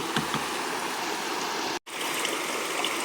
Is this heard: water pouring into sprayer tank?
yes